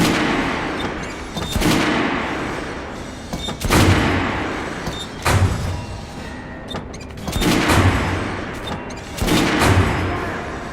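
Heavy gunshots fired in turn on a shooting range in the Metro Redux video game, each loud boom trailing off into a long echoing tail, about five shots spaced a couple of seconds apart.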